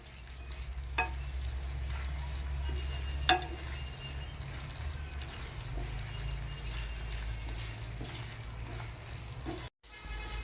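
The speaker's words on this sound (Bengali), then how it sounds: "এখন আমি সব কিছু একসাথে নেড়ে চেড়ে ভালো করে মিশিয়ে নেব।" A paste of ground cashew, raisin and poppy seed is stirred in a frying pan, with a continuous close sizzle, a couple of sharp scraping knocks and a low steady hum beneath.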